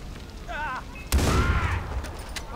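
A single heavy shotgun blast in Far Cry 4 booms out abruptly after a moment of quieter game ambience, its loud crack trailing into a rumbling decay; a short voice-like chirp precedes it.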